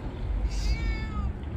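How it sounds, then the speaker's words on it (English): A cat gives a single short, thin meow at close range over a low rumble of background noise, outside a closed-down shopping mall. "Check this out, found a couple of cats."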